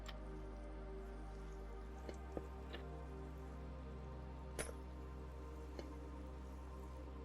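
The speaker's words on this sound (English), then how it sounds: "Look at that pretty rain" Rain falls in the Minecraft game as a steady, soft hiss with occasional faint drip-like ticks, holding an even level throughout with no voice over it.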